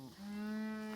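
A single cow on a farm with fall-calving cows and new calves gives a long, steady moo, held at an even pitch close by and fairly quiet.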